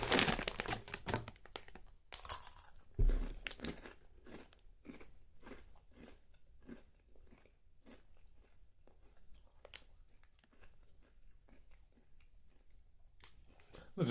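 Crunchy caramelized snack bits being bitten and chewed close up, a run of crisp crunches with some bag crinkling and a louder burst early on, repeating steadily through the quiet.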